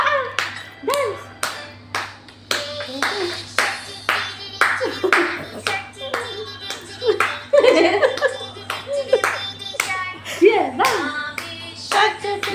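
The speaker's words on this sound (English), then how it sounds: "clap your hands, clap your hands" Rhythmic hand clapping in steady repeated beats keeps time for dancing, with cheerful voices and some laughter mixed in and a low steady hum underneath.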